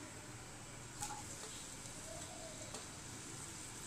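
Chopped onion dropped into hot oil in a pan, giving a soft, steady sizzle with faint crackles and a couple of light clinks, heard quietly and close with no talking.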